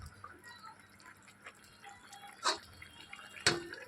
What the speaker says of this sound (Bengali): এদিকে দেখো চিকেনটা ফুটে গেছে জল দেওয়ার পর